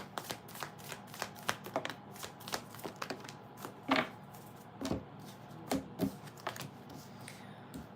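Tarot cards are shuffled in a quick, irregular run of soft riffling and slapping clicks, close and fairly quiet, with no talk.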